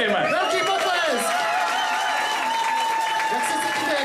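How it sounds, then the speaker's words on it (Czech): Applause at a charity concert where a guitar owner is being honored, a dense, loud wash of clapping from a large audience, with cheering and tonal whistles or voices riding over it throughout. "Zatleskejme. Velký potlesk!"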